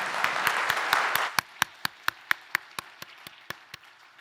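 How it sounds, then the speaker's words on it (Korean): A church congregation at a Sunday service claps together, loud and close. The dense group clapping breaks off after about a second, leaving a few sharp single claps in a slow, steady rhythm. "영광의 박수 올려드리겠습니다."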